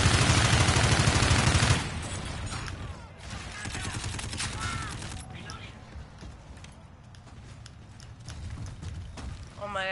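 Rapid bursts of gunfire from a weapon in the shooter video game Call of Duty: Infinite Warfare, loud and continuous at first, then thinner shots mixed under game effects and a player's excited talking.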